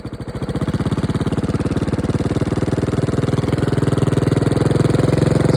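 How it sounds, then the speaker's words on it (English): Predator 212cc hemi small engine with a straight pipe running at about half throttle, a loud, steady, rapid exhaust putter close up that rises slightly in pitch and volume over the stretch, with no talking. "That right there's about half throttle."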